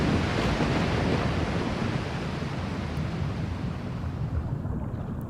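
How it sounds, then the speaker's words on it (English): Underwater sound effects from the video game Zelda: Wind Waker HD form a steady, muffled, rushing wash of noise, like deep churning water, that continues evenly throughout with no voices. "Ah, the beautiful sound of underwater sound effects."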